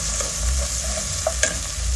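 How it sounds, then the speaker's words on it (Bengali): Shrimp and onion fry in a pan with a loud, steady sizzle, and a few sharp clicks and scrapes of a stirring utensil stand out, with no talk. "চিংড়ি মাছ পেঁয়াজ ভাজা হোক না"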